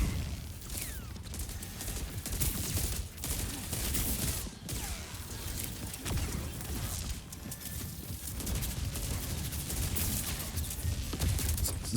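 Rapid gunfire volleys crackle through an Overwatch esports match, dense bursts of shots and impacts piling up continuously with no pauses, loud and busy from start to finish.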